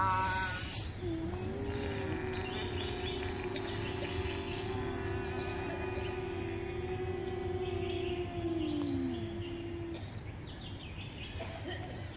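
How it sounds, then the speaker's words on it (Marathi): Ujjayi pranayama breathing in a yoga session for senior citizens, a long, steady hiss-like throat sound drawn out over several seconds at close range, with no talking over it. "घशातून आवाज काढत श्वास घ्यायचा आहे"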